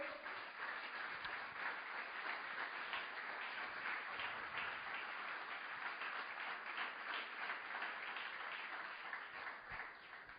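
Sustained applause from a crowd, a dense wash of clapping that holds steady for about ten seconds without any speech.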